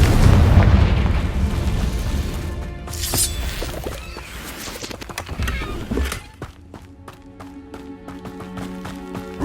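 A Confringo fire spell explodes in Hogwarts Legacy with a loud, deep boom that rumbles and fades, followed by further sharp impacts and a lingering tonal ring.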